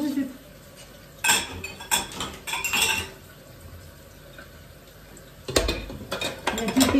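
Dishes and cutlery clink and clatter in irregular bursts as a dishwasher is loaded at home, with quiet pauses between the clusters of clanking.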